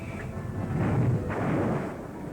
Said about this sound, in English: Our guns open up with a devastating barrage, plowing a path of exploding shells over the town and airfield